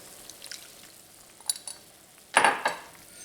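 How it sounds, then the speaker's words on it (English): Faint metal spoon scraping and clinking in a pot while cornstarch slurry is stirred into boiling mushroom gravy, a few soft taps early and a sharper scrape-clink pair near the end, quiet and close. "just stir slowly and constantly until the sauce thickens"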